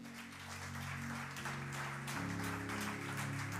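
A church congregation stands and applauds, a steady broadband patter of many hands sustained throughout, over held musical tones.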